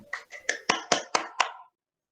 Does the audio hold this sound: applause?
yes